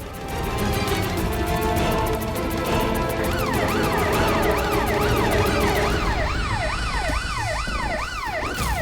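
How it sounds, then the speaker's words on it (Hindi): An ambulance siren wails in rising and falling sweeps, growing louder and closer over rumbling traffic and engine noise. "एम्बुलेंस भी आ गई।"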